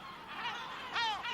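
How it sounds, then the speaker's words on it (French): Gulls give an alarm call in a few harsh, honking cries close by, the sharpest one near the end, with no talk. "Ça, c'est le cri d'alarme. Ça veut dire il y a des intrus qui s'approchent un peu trop près."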